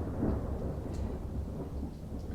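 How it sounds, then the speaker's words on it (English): Thunder from a thunderstorm gives a steady, low, dense rumble throughout, with a faint patter like rain, heard outdoors near a woodturning workspace, with no speech. "it's thundering."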